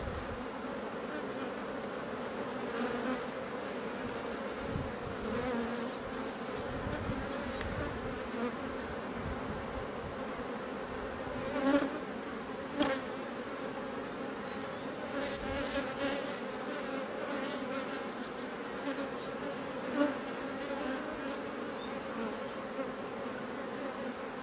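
Honeybees swarm around an open hive during a swarm-cell inspection, a dense steady buzz that fills the space close by, with occasional louder individual bees passing near and faint handling taps, no voices.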